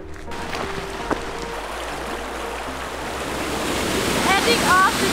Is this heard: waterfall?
yes